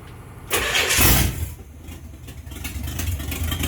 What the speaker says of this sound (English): It's a typical open headers, so you know it's got that bloop bloop noise